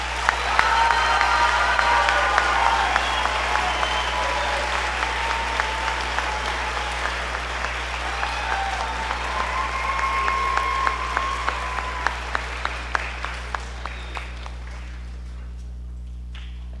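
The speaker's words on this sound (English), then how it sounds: "Please join me in giving these students a round of applause for their achievement." A school concert audience applauds student band players at a spring band concert, dense sustained clapping that thins toward the end into a few sharper individual claps, with faint crowd murmur beneath.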